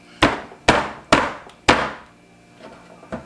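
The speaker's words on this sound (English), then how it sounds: "I just want to go ahead and get like my garlic chopped up" A knife chops garlic on a cutting board with four sharp, evenly spaced thuds close by, followed by two fainter taps.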